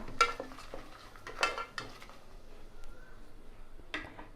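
A spoon scrapes and clinks against a biryani pot as whole spices such as star anise, biryani flower and shahi jeera are stirred. Three or four sharp metallic strokes sit over a quiet kitchen background.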